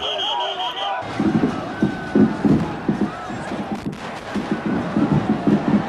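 Crowd of Korean protesters in 1987 rallying over the death of student Park Jong-chul, a dense rumbling roar of many voices rising in repeated surging bursts after a brief quieter opening.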